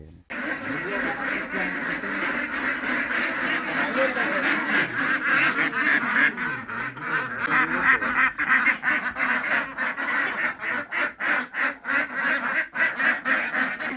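A flock of village ducks quacks continuously and fairly close on a rural Bangladeshi farm, a steady chattering din with rapid overlapping calls and faint voices in the background.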